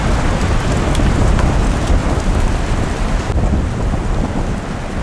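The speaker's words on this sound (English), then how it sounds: "Just wait for the wind." Strong wind buffeting outdoors during a windstorm at a furniture video shoot, a loud continuous rumbling roar with gusty low-end blasts hitting close, no speech.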